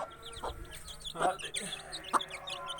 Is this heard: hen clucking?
yes